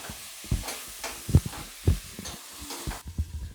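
Mushrooms frying in a pan and being stirred, quiet intermittent sizzling with soft scraping and thumping of the spoon, close and fairly faint.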